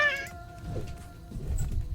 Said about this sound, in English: I have bad cats.